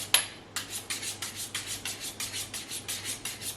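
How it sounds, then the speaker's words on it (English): A flexible filleting knife is sharpened with about fifteen quick, evenly spaced rasping strokes. The scraping is close and steady, with no talking. "Whenever you sharpen a knife,"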